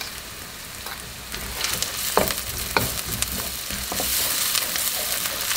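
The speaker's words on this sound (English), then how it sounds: "I'm going to let that cook in there while I stir for about 2 minutes." Onion, garlic and ginger paste frying in a pan for African fried rice, a dense crackling sizzle with occasional spoon taps and scrapes as it is stirred, close and steady, nobody speaking.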